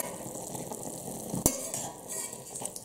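Stuffed quail simmering in a pan give a steady soft sizzle while the birds are turned, with one brief utensil clink partway through.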